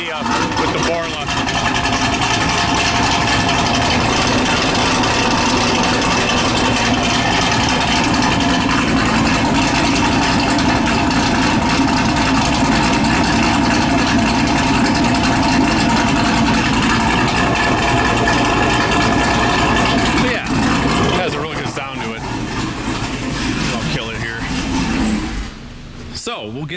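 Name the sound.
Camaro SS V8 engine idling with Borla exhaust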